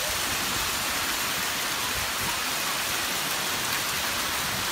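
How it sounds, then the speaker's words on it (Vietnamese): A heavy hailstorm in Tam Nông, Phú Thọ, Vietnam, on Lunar New Year's Day 2020 pounds down as a dense, unbroken roar of falling ice and water, loud and steady throughout with no voices. "đây là trận mưa đá, mình thấy mưa đá rất là to, hạt đá rất là nhiều, dày."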